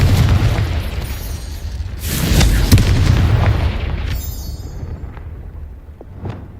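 Confringo explosion spell going off in the Hogwarts Legacy video game: a loud booming blast followed by crackling bursts, then a fading rumble with a few smaller pops near the end.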